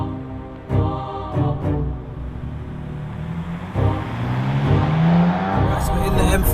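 A 2017 BMW M4 CS engine revs while driving, heard from inside the cabin with several rising throttle blips and upshift breaks, building to a louder sustained pull toward the end, with occasional talk over it.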